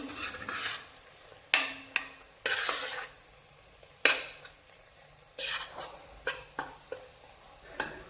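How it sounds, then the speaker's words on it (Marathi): Spice masala roasting in a pan for a goat head curry: intermittent scraping stirs and sharp clinks of a spoon against the metal pan come in bursts, over a quiet, faint sizzle, close by. "असंच एक ते दोन मिनिट ह्याला अजून भाजून घ्यायचं"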